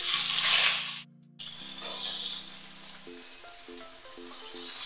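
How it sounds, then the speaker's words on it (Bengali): Eggplant pieces fry in hot oil with a bright sizzling hiss that swells and fades, under a soft background melody with a brief gap. "এবার আমি বেগুনগুলোকে দিয়ে দিচ্ছি তেলে"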